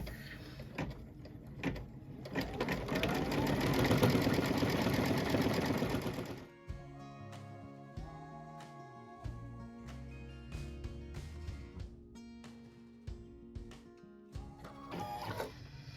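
An embroidery machine stitches a quilt block, its fast rhythmic needle clatter loud and continuous for about six seconds, then giving way to quieter whirring, clicks and intermittent mechanical movements.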